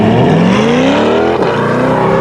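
Corvette driving at an autocross event, a very loud close engine note rising steadily in pitch under hard acceleration with a brief shift-like dip midway.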